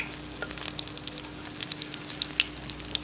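Mutton shami kababs frying in a pan over medium-low heat, a steady soft sizzle with scattered small crackles and pops throughout, no voices.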